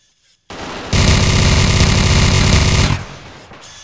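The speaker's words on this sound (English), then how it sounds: "Can't see who he's shooting." Sustained automatic gunfire in the VR shooter CyberThreat: one loud, continuous burst lasting about two seconds, close and dense, followed by a short decaying tail.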